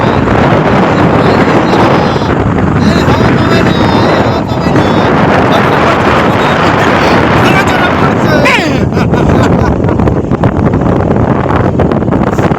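Strong seaside wind at a beach buffets the microphone in a constant loud roar, with a faint wash of surf beneath and occasional voices barely audible.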